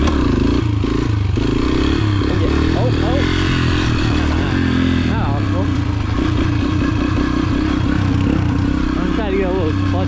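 A dirt bike out at the dunes snarls loudly and continuously up close, the engine revving and surging with rattling clatter through a wheelie, its pitch climbing and dropping as the throttle is worked, with no talking over it.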